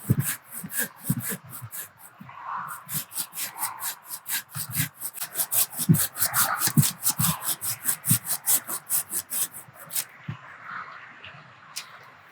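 Pruning saw cutting through a tree branch, a steady rhythm of rasping push-pull strokes, close and fairly loud, briefly pausing before continuing, with the final strokes trailing off.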